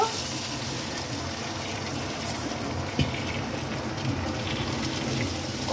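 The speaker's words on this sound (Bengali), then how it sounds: "হলুদ দিয়ে সেদ্ধ করা ডাল দিয়ে দিল" Dal boiled with turmeric is poured into a hot pan for a vegetarian dish, making a continuous rushing, splashing wash of liquid with a brief bump partway through.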